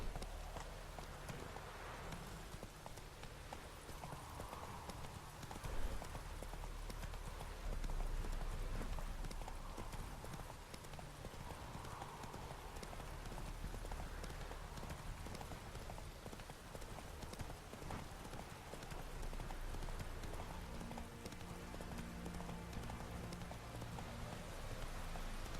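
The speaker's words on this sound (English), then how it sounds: "Get on the fucking horse." Horse hooves galloping in The Witcher 3: Wild Hunt, a quick, continuous clip-clop rhythm that runs throughout at moderate level over soft ambient game background, with no one talking.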